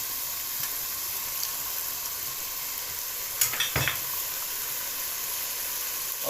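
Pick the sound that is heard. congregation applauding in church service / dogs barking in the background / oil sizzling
oil sizzling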